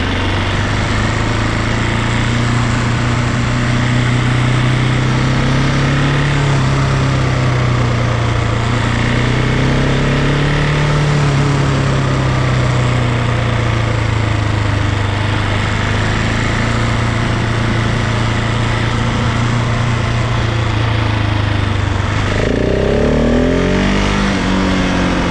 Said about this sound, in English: So let's listen to how the engine behaves.